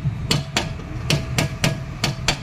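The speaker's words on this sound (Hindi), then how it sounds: "अब दबाने के बाद में हल्की हल्की इस पर चोट मारनी बस" Light hammer taps seat a Maruti Omni rear wheel onto its oil seal. Seven sharp metallic knocks come close and fairly evenly spaced, with a low hum underneath.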